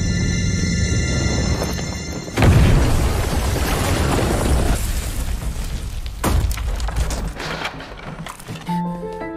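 A loud, heavy boom bursts in with broad rumbling noise, followed by more blasts and crackling debris over several seconds, with no talking.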